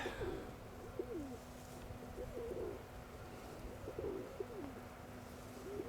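Domestic pigeons coo in soft, repeated rolling phrases, with several birds calling in turn at moderate distance over a low steady background hum.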